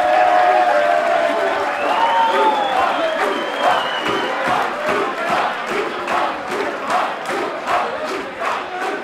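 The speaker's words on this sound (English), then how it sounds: "a round of applause for all our fighters tonight" At a corporate boxing fight night in Sydney, a crowd cheers and whoops while applause breaks out, with the clapping growing more distinct and rhythmic toward the end. The noise stays loud and continuous.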